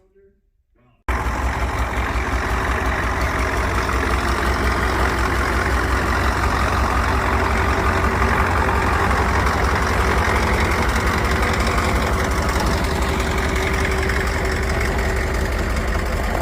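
A 1991 Ford truck with a 7.3 IDI diesel, built as a cheap mudbogger, idles loudly and close after a brief quiet start, its rough clattering diesel knock running steady and unbroken.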